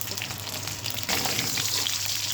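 Duck eggs sizzle in hot oil in a pan, a steady crackling hiss that swells noticeably louder partway through as the frying intensifies, heard up close without talk.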